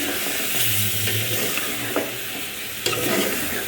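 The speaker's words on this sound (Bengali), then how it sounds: "প্রায় হলুদ মরিচ সব কষাই দিচ্ছি" Ground turmeric and chili spices sizzle and fry in a pan with garlic and ginger, a steady close hiss with occasional stirring scrapes and clicks of a spoon against the pan.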